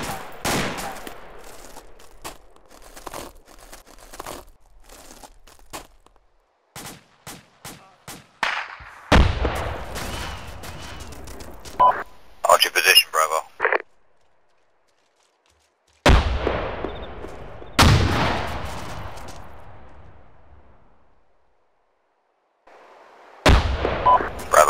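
Gunfire in a military shooter video game set on a Gothic Line mission, with sharp rifle shots, rapid bursts and heavier booms arriving in clusters separated by short silences, some near and loud, others more distant.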